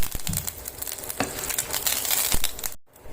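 Curry leaves drop into hot oil tempered with urad and chana dal for a dal, bursting into a loud crackling sizzle with sharp pops and spattering, then abruptly cutting off near the end.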